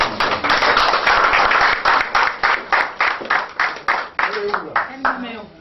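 Church congregation in Cameroon applauding, dense clapping at first that thins into sparse, rhythmic claps, with voices heard underneath toward the end.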